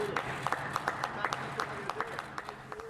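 The Prime Minister, someone and others clapping for carers outside Number 10 during the pandemic, scattered distinct hand claps in an outdoor setting, fairly faint with a voice speaking over them.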